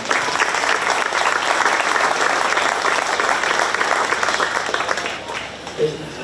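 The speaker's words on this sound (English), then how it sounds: "let's give these young exhibitors a round of applause" Applause at a county fair market beef show for young exhibitors, a loud, dense crowd clapping sustained evenly before tapering off near the end, with a brief voice at the close.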